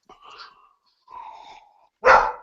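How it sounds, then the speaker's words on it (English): A dog nearby makes two whiny, drawn-out vocalizations, then a single loud, sharp bark at the end, with silence between them. "my dog wants to voice his opinion"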